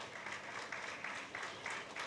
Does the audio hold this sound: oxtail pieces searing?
no